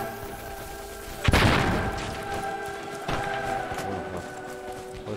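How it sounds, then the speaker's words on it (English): A bomb blast in a WWII video game, one sudden heavy boom that decays into rumble, then a second, softer thud a couple of seconds later over a continuous game background hum. "Get down, there's a bomb!"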